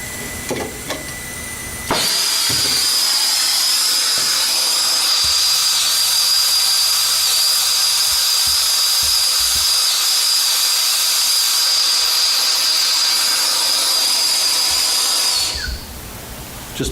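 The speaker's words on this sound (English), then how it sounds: "I like to put my torch on that plate and preheat that plate a little bit" Torch flame preheating a plate for aluminum coil repair, a loud, steady roaring hiss held at close range for about thirteen seconds before it cuts off.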